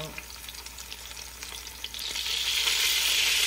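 Bitter gourd slices frying in hot oil give a steady close crackling sizzle that grows louder and denser partway through, with no talk.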